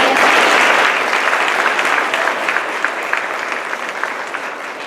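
An audience claps for a high school orchestra at a school board literacy tour event, giving a dense burst of applause that starts loud and slowly thins and fades.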